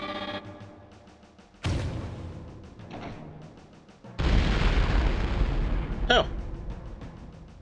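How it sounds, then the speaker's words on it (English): A grenade goes off in Turok 2 as a loud deep boom with a sustained rumbling blast, after earlier sharp bursts of gunfire. "Well, that panicked grenade worked."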